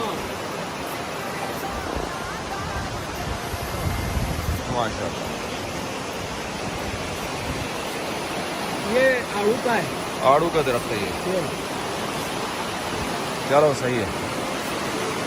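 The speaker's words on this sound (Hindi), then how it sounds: "बहुत स्पीड से पानी गिर रहा है।" A fast-falling waterfall in a Pakistani village setting roars as a steady, dense wash of rushing water throughout, with someone talking over it and a few louder spoken bursts rising above the noise.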